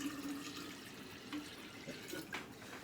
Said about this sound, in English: I'm going to pour in my second quart.